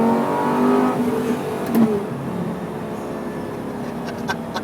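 A Lamborghini Gallardo Superleggera engine revs as the car accelerates in a lower gear, rising whine followed by a sustained, slightly fading roar, heard from inside with no talking.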